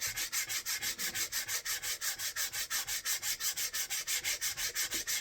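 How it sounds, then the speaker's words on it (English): Hand sanding on a basswood bowl makes a brisk, steady back-and-forth rasp of about five strokes a second, close and even throughout, with no voices. "I typically sand until it starts to show the grain"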